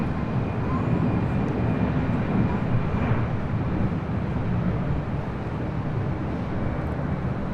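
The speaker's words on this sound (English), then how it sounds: "up next is the Spirit Flight A321 coming in from Louisville" Spirit Airlines Airbus A321 arriving at LAX from Louisville, a steady broad jet roar that holds loud and even throughout, with no talk over it.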